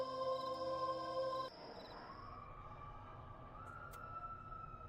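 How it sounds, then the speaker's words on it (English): Steady electrical buzz in the point-and-click adventure Dead Synchronicity: Tomorrow Comes Today, a dingy back room. A harmonic hum drops to a lower, softer drone partway through and continues alone. "I can hear the buzz of electricity coming from this."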